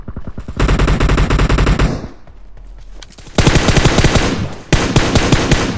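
Rapid automatic gunfire in PUBG Mobile, loud bursts of machine-gun fire in two long stretches separated by a brief lull, with no talking.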